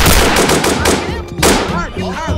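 Rapid gunshots in a Roblox hood game crack out as loud, dense bursts of automatic fire over a couple of seconds, with game voices and effects underneath.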